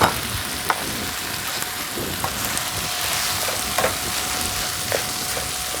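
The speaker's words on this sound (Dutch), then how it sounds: "En in dit wordt de ries opgebakken." Rice fries in a pan with a steady, close sizzle, and a utensil stirring it makes a few scraping clicks.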